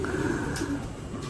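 Racing pigeons in their home loft give soft, low coos that repeat steadily against a constant background hum, close and moderately loud with no talking.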